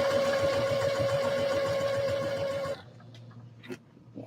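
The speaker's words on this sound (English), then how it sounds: "I'm going to decrease my stitch length to 2 and sew it at 1/2 inch seam allowance" Sewing machine stitching a seam at a short stitch length, a steady close mechanical whir with a tonal hum that runs continuously and then stops abruptly, leaving quiet room tone with a couple of small handling knocks.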